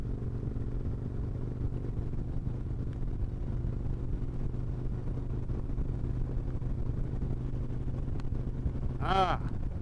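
Steady low engine drone from a Harley Road Glide or Kawasaki Vaquero motorcycle leaning through a curve, constant and loud throughout, with a brief rising whine near the end.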